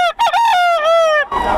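A rooster crows one loud, close, drawn-out call at a gamefowl sale, ending abruptly in brief rough noise.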